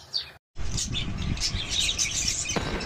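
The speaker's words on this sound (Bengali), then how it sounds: "ওই বারান্দায় যাওয়ার পথে আমি আমার পাখিগুলোকে তোমাদের একটু দেখিয়ে নেই।" Pet birds kept on a home balcony chirp and tweet in quick, high bursts close to the microphone, broken by a brief gap near the start.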